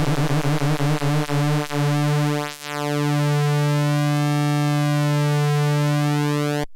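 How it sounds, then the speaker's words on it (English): A synthesizer oscillator whose pitch sweeps slowly up and down under a slow LFO, a steady buzzy harmonic tone with a brief dropout midway, playing alone. "we could have it controlled by the LFO, which is here in the modulator section. Let's slow it down."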